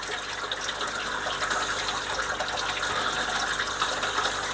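Hot water runs from a tap into an aquarium setting, a steady close gushing splash that continues evenly throughout without pause.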